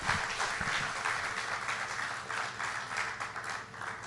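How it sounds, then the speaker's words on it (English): A crowd at an outdoor hospital topping-off ceremony gives a sustained round of applause for Dr. Benzon, steady clapping of moderate loudness throughout. "please give him a big round of applause"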